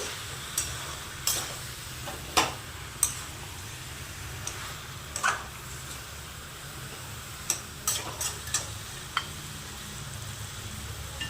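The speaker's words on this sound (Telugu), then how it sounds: "ఒకసారి ఈ చికెన్ అంతా ఉల్లిపాయలు ఈ చికెన్ బాగా కలిసేలాగా మనం కలుపుకోవాలి" Chicken and onions stirred together in a pan, with a low steady sizzle and scattered light scraping taps of the spoon at irregular intervals, fairly quiet and close.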